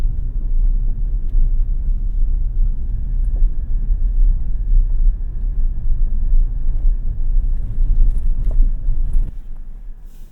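A 2025 Toyota Tacoma TRD Pro rolls along an off-road trail with a steady low engine and tyre rumble heard from inside the cab, constant and fairly loud, without talk.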